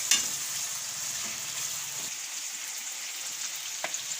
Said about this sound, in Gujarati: બટેટાને આપણે બે ત્રણ મિનિટ તેલમાં સડવા દેવાના